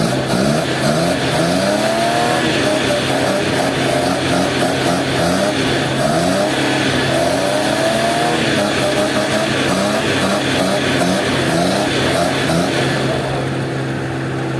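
A Suzuki Mehran car engine being revved during tuning, steady loud engine drone with repeated rising and falling rev sweeps over about fourteen seconds, close by with no talking.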